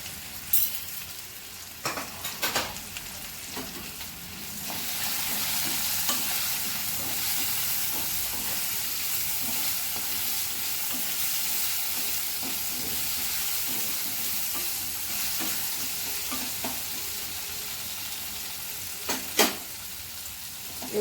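Okra frying in a pan with turmeric and salt sizzles and hisses steadily for a long stretch, broken by a few scraping stirs near the start and end, with no talking.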